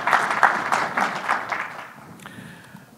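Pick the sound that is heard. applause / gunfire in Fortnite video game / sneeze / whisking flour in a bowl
applause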